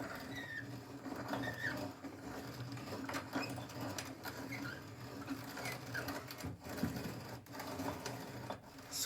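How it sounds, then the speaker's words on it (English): Steady gritty grinding and crunching from a hand-cranked grinder, close and continuous with small irregular pulses, no talking. "Hand grinder."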